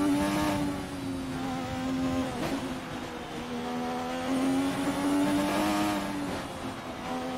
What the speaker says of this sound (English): You can just hear those turbos just keep spooling.